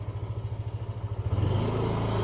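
A Yamaha Aerox scooter engine idles with a steady pulsing putter, then revs up into a louder continuous drone as it pulls away on a test drive after a sensor and wiring repair.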